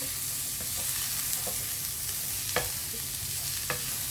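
Garam masala and ground turmeric frying in a pan, a continuous dense sizzle broken by several sharp scraping stirs of a spoon at irregular intervals, no talking.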